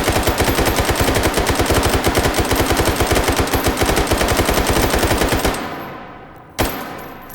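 Drum-magazine machine gun in Hot Dogs, Horseshoes and Hand Grenades firing one loud sustained burst of rapid, evenly spaced shots for about five seconds, then stopping, with a single further sharp shot a moment later.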